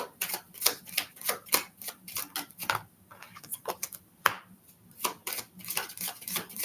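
Tarot cards are shuffled in quick, soft, papery bursts of clicks and riffles, close but quiet, with brief pauses between handfuls.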